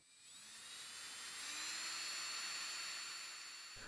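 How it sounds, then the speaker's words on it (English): A power drill whines as it bores into the metal outer shell of a Snapper string trimmer's clogged muffler, a high steady motor tone that swells and eases over a few seconds, close up. "after drilling another opening in the outer part of the muffler"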